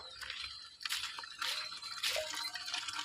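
Water drips and splashes in irregular bursts, soft and close, with faint wet trickling between the drops.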